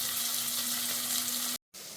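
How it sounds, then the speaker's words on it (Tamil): Shallots sauté in a pan for a South Indian mutton head curry, giving a steady close sizzle with a faint low hum, broken by a brief silent gap near the end before the sizzling resumes. "சின்ன வெங்காயம் ரெண்டுத்தையும் போட்டு நல்லா வதக்கலாம்."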